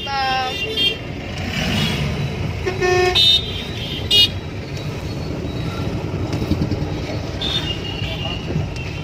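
A traffic jam on a busy road near Baleshwar: a constant engine and road rumble, broken by several short car and motorbike horn toots at irregular moments. Voices are also faintly present.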